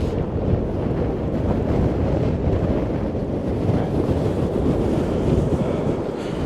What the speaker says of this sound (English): So it used to be high tide, high winds like this